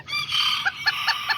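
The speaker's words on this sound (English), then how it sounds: "And then that little tiny kikiriki rooster." A tiny kikiriki bantam rooster crows in a high, strained call while several chickens cluck in short bursts nearby, all close and fairly loud.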